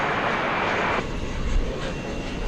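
An airliner arriving from Oklahoma City at DFW Airport rumbles broadly and steadily, with a brighter hiss that drops away after the first second and leaves a lower, continuous roar.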